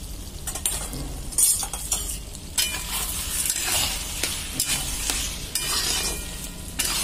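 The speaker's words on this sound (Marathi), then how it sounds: "आता जरा हलवून घेऊया" Brinjal dry curry with crushed peanut powder being stirred in a pan, with steady scraping, clinks of a utensil against metal and a light sizzle underneath, close and moderately loud, with no talking.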